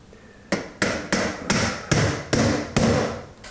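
A hammer drives nails into metal drywall corner bead, giving seven sharp, evenly spaced strikes that ring briefly after each blow, close and loud.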